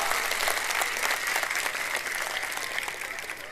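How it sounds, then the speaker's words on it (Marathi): A crowd at a Shiv Sena political rally in Shivaji Nagar, Malegaon, claps in a continuous, moderately distant burst of applause that holds steady and then tapers slightly. "टाळ्या वाजून त्यांना आशीर्वाद द्या"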